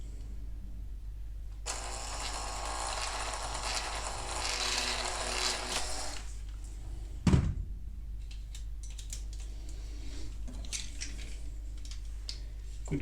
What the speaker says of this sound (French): ce que je fais, forer 5 mm